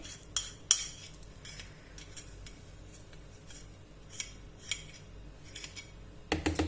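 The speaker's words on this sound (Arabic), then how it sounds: "دابا غنزيد فيها هذوك المعلقات ديال الكريم كراميل" Spoonfuls of cream caramel dropped into a whipped ice cream mix, heard as light spoon clinks and taps against a bowl, sparse and close, with a brief cluster of metallic clatter near the end.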